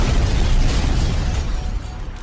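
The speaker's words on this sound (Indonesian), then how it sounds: "Terlihat Pak Dikopet akan meledak dan akhirnya si Kopet meninggoy dan terbakar bersama rumahnya." An explosion in a horror movie as a house blows up and burns, a dense loud roaring rumble that keeps going without a sharp onset and slowly fades, with no voices.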